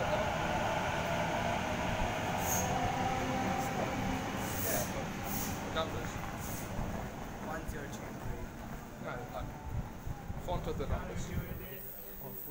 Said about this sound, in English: We have a Waratah arriving to Platform 1 for a City Circle by Sydenham Service.